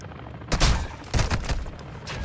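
Call of Duty DMZ gunfire: two loud bursts of rapid shots about half a second apart, followed by scattered quieter shots over a steady background, with no talking.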